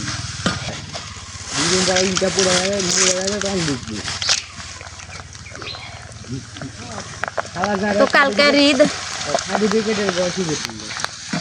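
Ela snacks fry in hot oil with a constant bubbling sizzle and occasional stirring, close by, while someone talks over it throughout.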